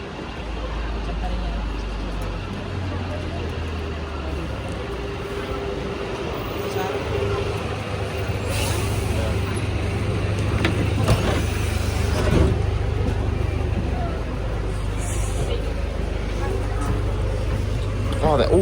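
London buses and traffic rumble continuously at a busy bus station, with engines idling and pulling away amid crowd babble and nearby voices.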